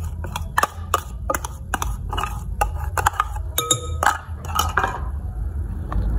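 A spoon stirs a beaten egg into meatball dough in a bowl, producing steady clinks and scrapes against the bowl, close and continuous, with no talking.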